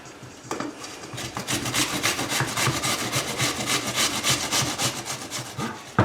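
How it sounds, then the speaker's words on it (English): An onion is grated on a grater, a fast run of rhythmic rasping strokes, close and loud, with no one speaking. "also gonna grate a bit of onion."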